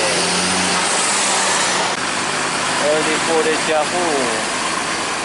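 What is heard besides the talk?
bus engine departing at a bus terminal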